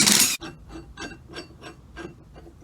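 A socket wrench ratchets on a bolt of an offroad vehicle's suspension arm after a brief loud noise at the start, giving a steady series of about six close clicking strokes.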